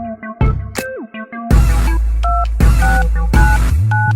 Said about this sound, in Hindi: पहले पापा को फोन लगाकर पूछते हैं